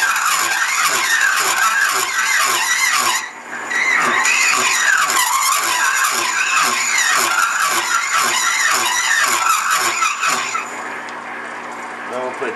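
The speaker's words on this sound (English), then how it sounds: "Since we're sticking out so far, we're getting that chattering noise" A lathe cutting tool chatters against a metal part sticking far out of the chuck, a harsh, rapid repeating screech with regular pulses, loud and close, briefly dropping out once before resuming.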